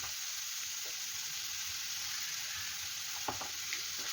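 Capsicum sautéing in a pan for paneer butter masala gives a steady, bright sizzle that fills the whole clip, with a few soft stirring scrapes near the end and no voices.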